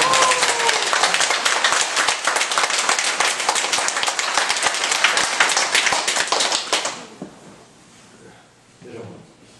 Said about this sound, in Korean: 축하 박수!